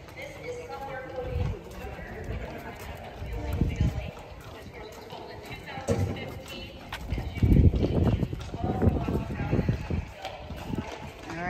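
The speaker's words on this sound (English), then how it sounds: "Yeah, look at all the horses." Clydesdale horse hooves clip-clop intermittently at a moderate distance at a national Clydesdale show, while people chat over them, with a faint bird call now and then.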